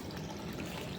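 Water poured for turkeys and chickens on a farm, a short, steady splashing trickle heard close and fairly faint, with no talk.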